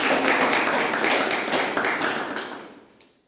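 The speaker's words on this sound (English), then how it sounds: "So big round of applause for her." A room full of people applauding a guest Toastmaster at a club meeting, steady dense clapping that holds for a few seconds and then tapers off to silence.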